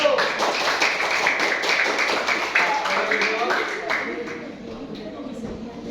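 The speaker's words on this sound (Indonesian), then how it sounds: "kasih tepuk tangan untuk kelompok 1" Students in a classroom clap for a group after its presentation, a lively patter of many hands that is strong at first and then fades, with talk mixed in toward the end.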